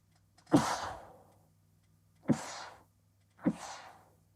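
Three separate sneezes, or sneezy exhalations, burst out one after another with pauses between them. Each is a sharp, breathy blast that trails off, heard close up against a quiet background hum.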